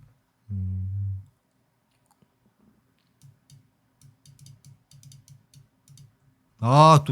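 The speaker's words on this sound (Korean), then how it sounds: "또 마우스 누르고 있죠?" A series of soft, quick mouse clicks, irregular and close, between a brief voice at the start and another voice at the end.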